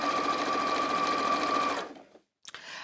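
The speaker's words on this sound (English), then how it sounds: "I'm just literally sewing it together" A sewing machine sews elastic onto skirt fabric in a fast, steady mechanical run with a whining motor tone, then stops abruptly, falls silent and gives a brief clack before a short restart.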